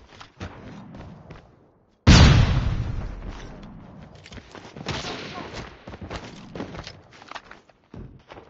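A flashbang grenade goes off in a Rainbow Six-style ranked match with a single sharp loud blast after light shuffling, followed by a ringing decay and scattered gunfire and footsteps, with voices calling out in between.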